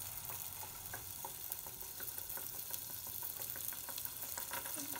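Kanji vada batter frying in hot oil in a kadhai, producing a continuous moderate sizzle with fine crackling pops and light clicks from handling.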